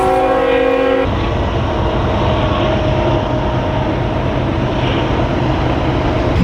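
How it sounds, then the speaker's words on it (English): A train rolls past close by with a loud, steady rumble and clatter of wheels on rails, its horn sounding at the start before the continuous roar of the passing cars takes over. "We get a view of the train too."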